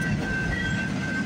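A work train rolls past at night in West Toronto, giving a steady, loud low rumble of wheels on rail with a faint high ringing tone above it and no voices.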